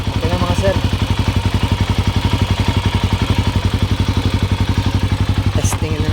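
A Motor Star Cafe 400 motorcycle engine idles steadily after an oil change, a loud, close, even rapid thumping pulse throughout with a brief clatter near the end.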